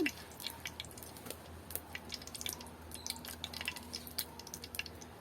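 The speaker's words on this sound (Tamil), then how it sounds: "நாங்கள் இப்போ இந்த வெங்காயம் வதக்கிறதுக்கு ஒரு கொஞ்சம் எண்ணெய் விடுவோம்" Oil is poured into a pan to fry onions for a Jaffna-style coconut milk sothi, giving faint scattered drips and small splashy clicks over a low steady kitchen hum.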